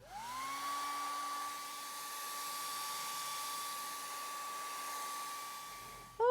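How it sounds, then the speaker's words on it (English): A hair dryer drying a watercolour painting starts up and whirs with a steady rising tone, blowing continuously at moderate volume before clicking off at the end. "Okay, blow dry."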